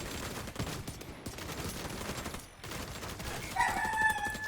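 Rapid gunfire rattles against a deflector shield in Division 2, a dense crackling stream of shots with two brief gaps, then bright ringing metallic tones near the end, all fairly quiet with no talk.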